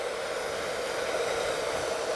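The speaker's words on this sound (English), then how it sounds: "never point the dryer directly into their eyes." Hair dryer blowing while a dog is groomed, a steady close whooshing roar of air with a constant motor hiss, loud and unbroken, with no talking.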